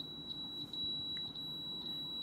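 A Power XL oven's control panel emits a thin, high electronic tone that holds throughout, with a few brighter beep pulses from button presses over a faint background hum.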